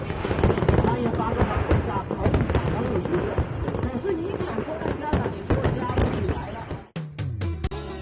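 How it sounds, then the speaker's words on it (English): Closing fireworks at Sun Moon Bay, Hainan, crackle and boom in a dense, loud barrage, with a few sharper bangs near the end. "enjoy the fireworks because this marks the end of the celebration."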